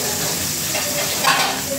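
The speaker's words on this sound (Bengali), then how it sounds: "ভাজা ভাজা হচ্ছে" Shrimp sizzling and frying in a pan, a steady close crackle with a brief stirring scrape near the end, no talking.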